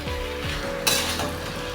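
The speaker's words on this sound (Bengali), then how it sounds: "দিয়ে আমি ভালো মতো কষে নেব।" Chicken being sautéed and stirred in a pan with lemon juice and fresh coriander leaves, giving a steady close sizzle broken by a few scraping knocks of a utensil against the pan.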